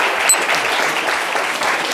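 Audience applause for a guest at a live French talk show, steady, dense and fairly loud, filling the full two seconds without a break.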